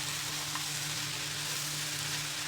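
Jaggery and raw mango cook in a pan with steady close sizzling and bubbling, a constant even hiss and a faint low hum.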